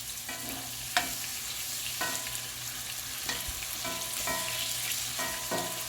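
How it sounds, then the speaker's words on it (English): Onions for hamburger steak fry in a pan with a steady, close sizzle, broken by periodic scrapes and taps of a spatula stirring them, and no talking. "I do love the smell of onions cooking"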